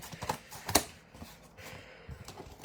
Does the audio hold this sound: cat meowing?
no